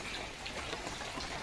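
Soft, steady morning rain pattering on a surface, a faint continuous wash of droplets with no other sounds.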